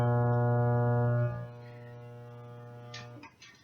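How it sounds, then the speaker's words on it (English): A jammed kitchen garbage disposal hums loudly and steadily for over a second, then drops to a quieter drone with a few short rattles near the end. "I'll just show you why I think our dishwasher or our garbage disposal is broken anyway"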